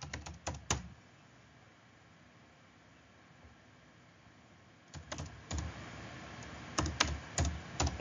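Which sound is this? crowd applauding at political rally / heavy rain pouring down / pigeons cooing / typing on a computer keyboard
typing on a computer keyboard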